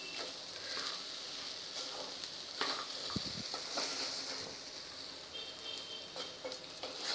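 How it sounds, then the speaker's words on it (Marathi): Peeled green chickpeas are sautéed briefly in a pan, giving a faint, even sizzle with occasional light scrapes and taps from stirring, heard quietly at close range without speech. "सोललेले हरभरे 1 कप, ते पण फक्त अर्धा मिनिट परतायचे आहेत"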